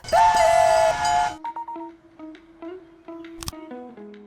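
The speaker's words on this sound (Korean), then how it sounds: "열차 출발합니다." A steam train whistle blows a loud shrill blast at the start, followed by quieter whistle toots and chuffing rail sounds as the train departs, a stylized sound effect with no talking.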